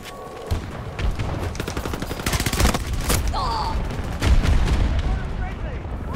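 P90 submachine gun in a first-person shooter game firing in several rapid bursts, loud and close, with other gunfire and muffled voice chat underneath.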